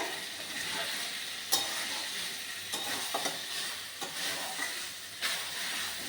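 Meat being sautéed (kosha) in a pan, giving a steady close sizzle and hiss with occasional sharp scraping clicks from stirring, with no talking.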